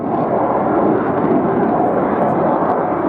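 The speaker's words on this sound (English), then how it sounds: "The aircraft coming from number 207 Squadron at RAF Mara." Military aircraft from 207 Squadron, RAF Marham, passing at the RIAT airshow: a steady, loud broadband jet roar fills the whole stretch without letup.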